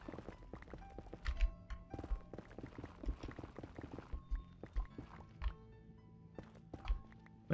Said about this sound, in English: The Netherrack sounds really gravelly